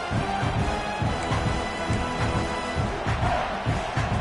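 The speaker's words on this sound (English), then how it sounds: "This crowd knows they have to bring it in big moments" Football stadium crowd roaring steadily at a college game against Washington State, a dense sustained wall of cheering voices without a break.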